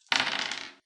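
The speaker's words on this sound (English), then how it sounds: "Hjani, roll the percentile dice." Percentile dice tumble across a table during a tabletop role-playing game, a single short clattering roll that rattles for under a second and stops, close and alone.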